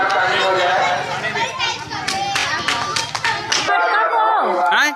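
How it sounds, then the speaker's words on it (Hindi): A crowd applauds the winners of a pot-breaking (matki phod) game at a community event, with clapping over a lively backdrop of chattering voices and children before the noise thins out. "जोरदार ताली हो जाए।"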